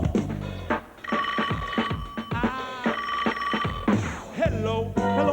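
A telephone bell rings repeatedly in short bursts, set inside a busy musical track with rhythmic instruments playing throughout.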